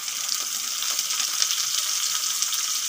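Potatoes fry in hot oil with a steady, close hiss of bright crackling sizzle. The sound holds even throughout, with no voices.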